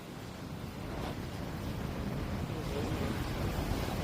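Rough sea surf washes onto Odori beach in Heunghae, Pohang, after rain, forming a steady low roar of breaking waves with wind noise over the microphone and no voices.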